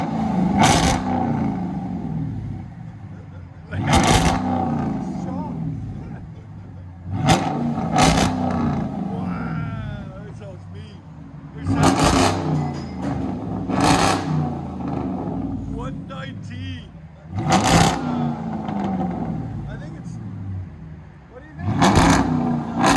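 A white 2013 Dodge Durango R/T with a 5.7L V8 and Dynomax Bullet mufflers revs in about six sharp, loud bursts spaced a few seconds apart, with people talking between them.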